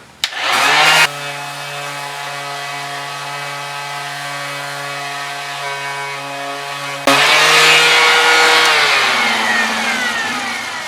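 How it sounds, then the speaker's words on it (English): A loud power sander with 80 grit paper drones steadily with a strong whining tone on new boat wood, briefly changing pitch near the start and again partway through as it works the wood. "Now I'm sanding with 80 grit paper"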